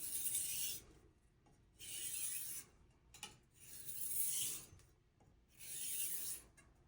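A compound-beveled knife is drawn across a sharpening stone in soft, quiet rasping strokes, four long passes with short pauses and a light tap between, close and faint, with no voices.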